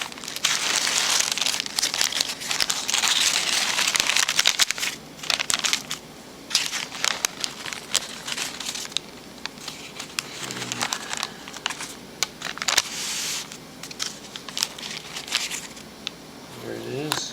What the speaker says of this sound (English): Go ahead and try to unwrap this